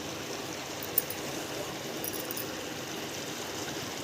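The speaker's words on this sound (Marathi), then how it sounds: "थोडं आणखी पाणी घालते" Steady water pours and trickles continuously for several seconds into a pan of peanut and brinjal curry, a soft even splashing with no voices.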